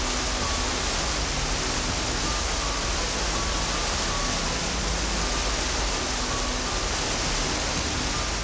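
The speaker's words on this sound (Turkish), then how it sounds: "Köyün ortasından akar gider Kelkit çayının bir kolu." A stream, a branch of the Kelkit river, flows through a village with a steady, even rush of water that fills the whole stretch, close and continuous without any voices.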